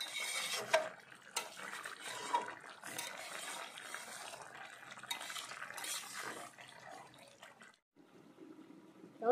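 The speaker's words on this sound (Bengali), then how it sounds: "টকবক করে ফুটছে" Thin curry of bitter gourd and pond-raised bata fish boiling in a pot, a steady, fairly quiet bubbling and churning wash with occasional clinks of utensils against the pot, easing off briefly near the end.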